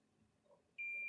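A single sustained high electronic beep from a tester checking connector pins on a Gallagher load bar starts abruptly after a quiet moment and holds steady.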